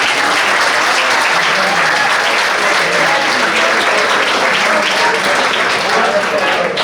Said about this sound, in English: can we give a round of applause to the JV kids